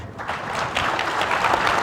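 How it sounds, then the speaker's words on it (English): A keynote panel audience breaks into steady applause, dense clapping filling the room from start to finish with no talk over it. "everyone, give these guys a big round of applause"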